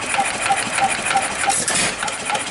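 A 1955 International Farmall 100 tractor engine runs at a steady idle, its close, loud mechanical chugging continuing evenly throughout.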